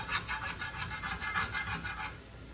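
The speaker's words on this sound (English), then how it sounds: "Just to get those bits of goodness off the bottom of this pan." A utensil scrapes browned bits off the bottom of a pan after brine is poured in for butter beef. The rubbing, rasping strokes repeat in a quick rhythm, close up with no talk.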